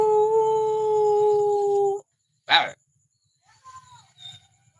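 A person imitates a howling dog with a long, steady, drawn-out howl lasting about two seconds, then a short sharp vocal burst and faint murmurs afterward.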